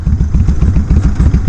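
A big motorcycle of over 800cc idles loudly up close, its engine thumping in a quick, even rhythm of low pulses with light mechanical clatter on top.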